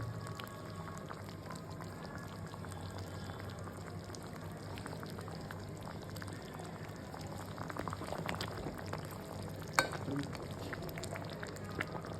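Curry bubbling in a pot on the stove, a steady low simmering burble with soft pops running throughout, fairly close and continuous.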